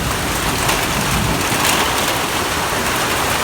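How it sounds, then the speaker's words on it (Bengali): Heavy afternoon rain pouring down during a storm, a loud, dense and unbroken roar of drops drumming on surfaces close by, with no pauses. "দেখেন খুবই আপনার বৃষ্টি হচ্ছে"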